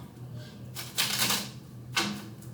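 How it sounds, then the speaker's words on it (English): A deck of cards is riffle-shuffled up close, two quick fluttering bursts of card snaps about a second apart over quiet room tone. "So I'm going to shuffle these cards"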